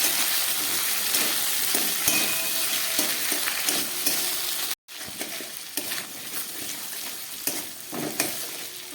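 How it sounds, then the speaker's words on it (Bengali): Potatoes frying in a pan with ginger paste, salt and turmeric, a continuous close sizzle with stirring scrapes, briefly cutting out midway before resuming. "আদা আর নুন হলুদ দিয়ে একটু ভেজে নিলাম।"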